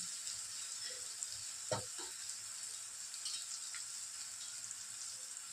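Prawns fry in a pan as coriander and turmeric go in, giving a steady, close sizzle with a brief clink or stir around the middle.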